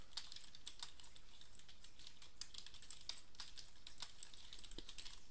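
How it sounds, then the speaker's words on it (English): Rapid, steady keystrokes on a computer keyboard as a password is typed, a dense run of close, crisp clicks with no pauses and no talk. "I'm going to type in a password"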